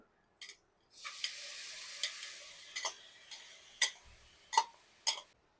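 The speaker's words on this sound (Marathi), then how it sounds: "कढई गरम झाल्यावर त्यात घालायचं आपल्याला एक चमचा साजूक तूप आणि हा बारीक चिरलेला गूळ" A spoonful of ghee and finely chopped jaggery heat in a hot kadai, giving a soft, steady sizzle broken by several sharp spoon clicks against the pan.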